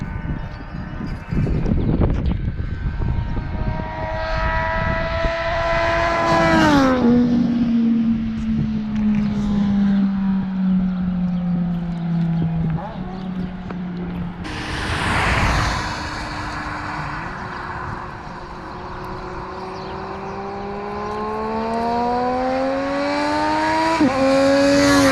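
A vehicle fitted with a Toce baffle exhaust passes by, its engine note climbing through revs, dropping between gears and then rising again. The sound grows louder as it approaches and fades as it pulls away.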